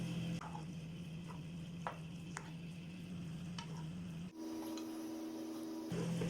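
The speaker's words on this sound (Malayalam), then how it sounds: "ശർക്കരപ്പാനി കിടന്ന് റൈസ് നന്നായിട്ട് വഴറ്റി എടുക്കണം." Rice sautéing in jaggery syrup for payasam gives a low sizzle with occasional scraping stirs and light clicks, steady and close, with a short quiet pause before the sizzle resumes.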